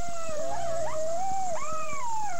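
A dog howls in a long wavering, rising and falling tone at a singing contest, close and steady for a couple of seconds, with faint clicks and background noise beneath.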